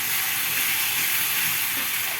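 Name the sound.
garlic frying in a pan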